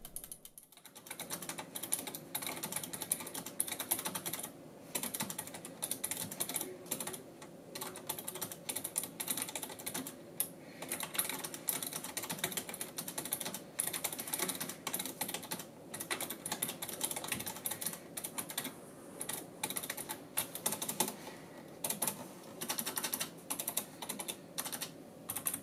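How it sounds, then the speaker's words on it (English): Steady, fast typing on a Razer Ornata Chroma mecha-membrane keyboard, a dense clicky patter of keystrokes, close and continuous with brief pauses, with no voices over it. "Let's first give you a sound sample of what you could expect to hear when you use this."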